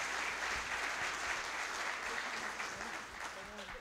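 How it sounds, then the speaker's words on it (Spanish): A crowd applauds at a question-and-answer session, a steady wash of claps that stays fairly quiet and far off and fades a little toward the end. "Un fuerte aplauso, por favor."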